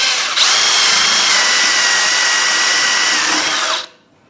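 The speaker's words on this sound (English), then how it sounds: "now what I'm going to do is drill a 7/16 hole" A power drill bores a 7/16 hole into wood with a wood drill bit, a loud steady whine running for over three seconds before cutting off abruptly, with no speech over it.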